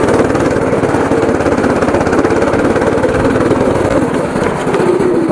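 A go-kart engine drones steadily and loudly up close at a kart track in Nandi Hills, a continuous buzzing mid-pitched run with no pauses.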